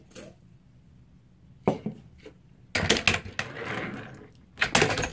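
Handboard, a finger-style skateboard ridden with the hand, landing a Casanova flip trick: a sharp wooden clack near 1.7 s, then louder rattling board impacts and scraping from about 2.8 s, ending in another clatter near 5 s.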